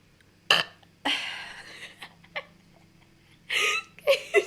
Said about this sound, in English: I'm gonna burp.